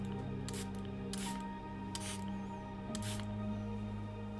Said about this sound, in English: And then I'm going to spray that.